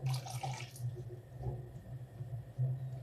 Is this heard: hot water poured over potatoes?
yes